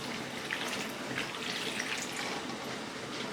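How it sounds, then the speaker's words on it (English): Water poured from a cup into a bowl of yeast while making homemade burger buns, a steady soft splashing trickle that runs for a few seconds, close and fairly quiet with no talking. "take your cup of water. Just pour that in there with the yeast."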